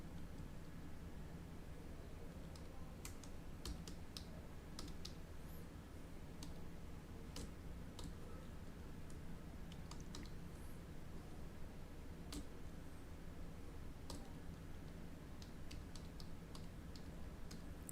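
Someone types names on a computer keyboard while coding in Python, with sparse, light key clicks scattered throughout over a steady background hum.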